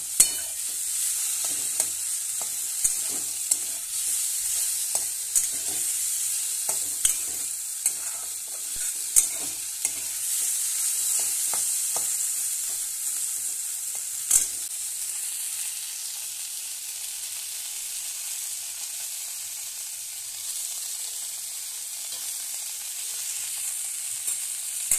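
Brinjal fries with neem leaves in a pan, a steady soft sizzle broken by repeated scraping knocks of a spatula stirring, busier early on and settling to a gentle hiss later.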